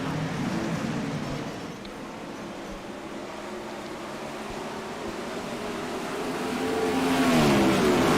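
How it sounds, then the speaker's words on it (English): Open-wheel race cars in a Hoosier Open Wheel Series race at Port Royal, engines droning steadily from mid-distance and swelling louder near the end as cars close in, with no talk. "We're back green flag racing here at Port Royal."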